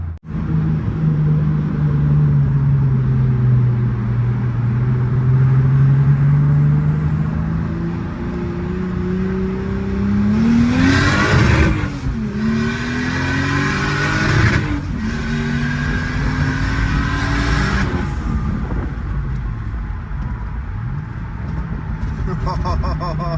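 A turbocharged Toyota 2JZ-GTE swapped car engine revs and pulls hard in traffic, its droning pitch rising and falling through gear changes, loud and close from inside the vehicle.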